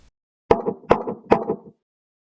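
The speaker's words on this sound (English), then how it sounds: "Then, 3 soft, polite knocks" Three evenly spaced knocks strike a hotel door, each one sharp and close with a brief wooden resonance, then silence.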